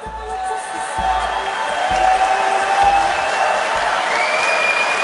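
Audience applauding at the WorldSkills 2023 opening ceremony in Lyon, a broad steady wash of clapping and crowd noise that swells slightly midway, with a few cheers and whoops rising from the hall.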